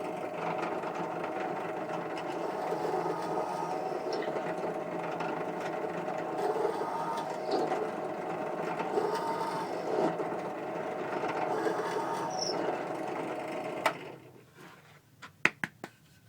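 An 8-inch five-speed bench drill press drilling holes into a 2x4 board, a steady motor whir and cutting hum running for a long stretch before shutting off, followed by a few sharp knocks and clicks.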